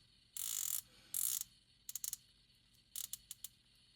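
A 120-click unidirectional ceramic-insert bezel on a stainless steel dive watch being turned, with two longer bursts of rapid ratcheting followed by short clusters of crisp, close clicks against a quiet background.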